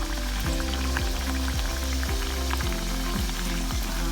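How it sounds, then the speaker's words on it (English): Constant loud sizzling and bubbling of sugar puri dough frying in hot vegetable oil, close up, with a regular ticking pulse underneath and no talk. "now we're going to pop it into our hot oil"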